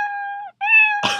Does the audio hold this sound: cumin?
no